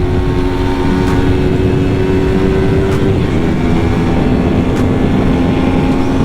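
A Yamaha R3 motorcycle engine drones loudly and steadily up close, a constant buzzing hum with slight pitch shifts and no talking.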